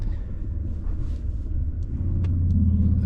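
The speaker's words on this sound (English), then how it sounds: "I wasn't counting on all this traffic right now" Road traffic rumbles near Malibu, a low steady drone of cars driving close by that swells louder toward the end as one passes.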